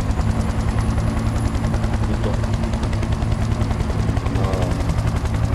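Helicopter rotor thumping steadily overhead in the Bad Company war video game, loud and constant with scattered gunfire mixed in, while a player's voice comes through briefly.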